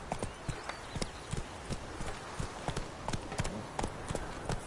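In The Witcher 3 on PS4, a horse's hooves clip-clop at a steady trot, rhythmic, fairly quiet hoofbeats continuing throughout.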